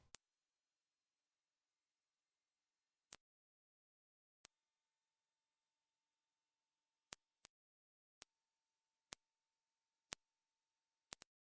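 High-pitched pure sine tones from a hearing test above 8,000 hertz, two sustained steady beeps of about three seconds each, the second pitched higher, followed by a few very short clicks, with silence between.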